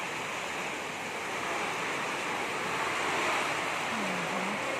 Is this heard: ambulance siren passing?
no